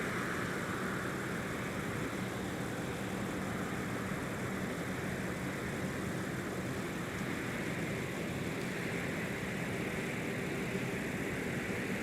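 A distant airliner departs Minneapolis–St. Paul airport on a winter morning, bound for San Francisco, its steady broadband jet roar holding unbroken and fairly faint throughout, with no talking.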